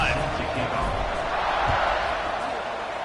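Stadium crowd noise in the college football video game CFB26 after an extra point before a kickoff: a broad, sustained murmur and cheer from a large crowd, held steady under a commentator's continuous talk.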